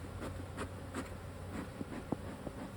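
Aggressive honeybees buzz steadily close by during a hive inspection, a continuous drone of many wings with individual bees passing nearer in brief swells.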